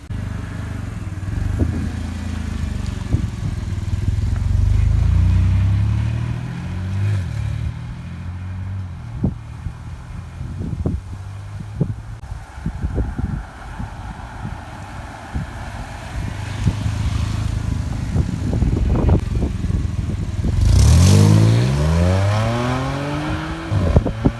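A formerly stolen Audi S4 bought from Copart is driven on a short run, its engine droning and revving under strong wind buffeting, with rises and dips in pitch and a louder rev near the end.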